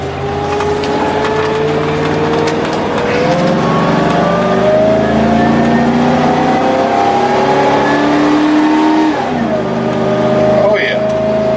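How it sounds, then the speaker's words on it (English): The engine of a 2005 Winnebago Voyage 33V Class A gas motorhome on a Workhorse chassis drones steadily as it accelerates uphill, its pitch rising and then dropping at a smooth gear shift near the end, heard from inside the cab. "we're going to start out going up this hill and see what kind of power we got, and torque"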